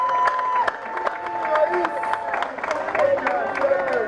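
Crowd at a political gathering cheering and applauding, with scattered claps and raised voices, whistles or ululating cries rising over a steady murmur.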